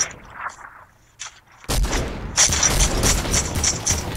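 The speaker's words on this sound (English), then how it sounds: "Let me shoot him." Gunfire in the Fortnite Mobile video game starts suddenly after a few quiet clicks, with dense, rapid shots and booming impacts continuing loudly for over two seconds.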